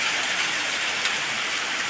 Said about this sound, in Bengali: দেখো বৃষ্টি হবারই লাগছে